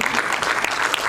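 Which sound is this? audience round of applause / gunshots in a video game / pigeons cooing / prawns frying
audience round of applause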